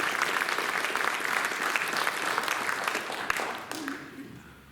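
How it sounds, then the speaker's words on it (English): An audience applauds young people at a Republican first selectman's primary candidates forum. Many hands clap in a dense, steady burst of moderate loudness that tapers off near the end. "would you join me in giving them a round of applause?"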